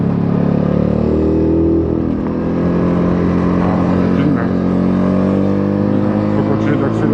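A Ducati Monster 937 motorcycle accelerates with a steady, loud engine drone that holds throughout, and a voice talks over it.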